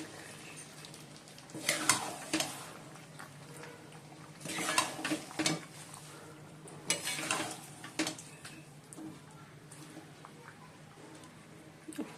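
Mutton pieces frying in spice masala in a home kitchen, a quiet sizzle under clattering spoon stirs and pot knocks in a few bursts, with faint talk at times.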